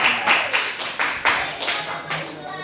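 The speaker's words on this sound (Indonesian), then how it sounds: "Sebelumnya tepuk tangan dong untuk kamu." A class of eleventh-grade students claps, a few distinct bursts of hand claps with a rhythmic pattern over a couple of seconds, close and moderately loud.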